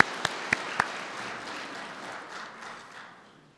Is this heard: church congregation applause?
yes